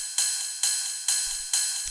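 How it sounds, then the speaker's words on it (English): A 909 ride cymbal plays a warehouse techno pattern: four bright, evenly spaced hits, each ringing with a sustained metallic shimmer that fades before the next, heard alone and up close. "Pretty simple stuff, you know, it's just 909 ride"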